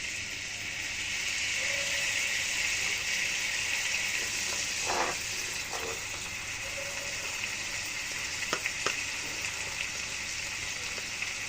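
Steady sizzling hiss of chili pickle frying as white vinegar goes in, a continuous bubbling crackle with a few brief louder pops and spits, close and moderately loud throughout.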